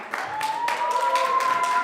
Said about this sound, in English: everybody clap for yourselves